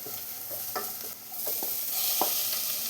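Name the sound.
marinated clam meat added to a frying pan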